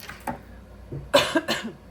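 A few dry coughs close by, one light cough followed by a quick pair of harsher ones.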